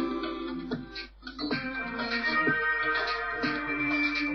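A rock track plays continuously, dense and harmonically rich with layered instruments, a short dip near the one-second mark, and no talking over it.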